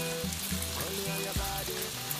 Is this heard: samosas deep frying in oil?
yes